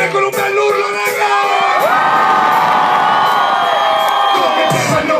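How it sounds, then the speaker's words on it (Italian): A live concert crowd at a summer tour show in 2012 roars with loud sustained shouting, cheering and whoops, swelling into a continuous wall of voices for several seconds. "Fatemi sentire con un bel urlo, raga!"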